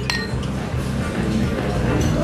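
Glasses clink together in a toast at a cattle-station gathering, a short bright chink near the start over a dense, low room murmur.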